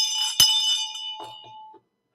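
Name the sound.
bell rung once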